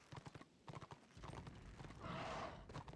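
A galloping horse in the game Return of Reckoning, its close rhythmic hoofbeats breaking for a loud whinny before the hooves pick up again.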